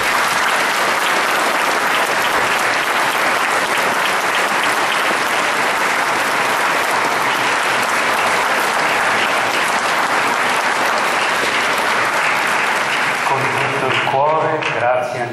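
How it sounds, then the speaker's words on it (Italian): Sustained applause from a large crowd in a sanctuary church fills the space steadily for a long stretch, ending as a voice begins speaking. "Ancora un grazie e un grande applauso al nostro Vescovo."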